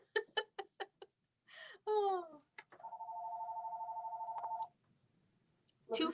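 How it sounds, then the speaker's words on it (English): A telephone rings in a studio during a live broadcast, with a steady electronic ring of about two seconds that stands alone after a few brief voices and laughter, and talk resumes right after. "The phone rings every week while we go live."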